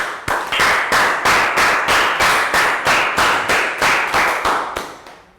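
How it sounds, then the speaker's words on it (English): A class of young schoolchildren gives a round of applause indoors, about a dozen loud, evenly spaced claps in a steady rhythm that slows slightly and fades at the end. "Round of applause."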